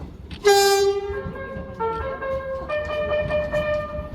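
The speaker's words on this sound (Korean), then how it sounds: "역으로 들어오는 열차가 경적을 울리는 것을" A subway train sounds its horn as it pulls into a station without platform screen doors: a loud, sustained multi-tone blast over the low rumble of the arriving cars.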